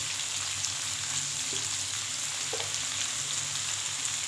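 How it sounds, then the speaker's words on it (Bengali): Onions sizzle steadily in a hot pan as an ingredient for shukto, a continuous close frying hiss with a couple of faint stirring knocks and no talk. "এবার পেঁয়াজটা ভাজা ভাজা হয়ে গেছে তার সঙ্গে একটু নুন দিয়ে দিলাম"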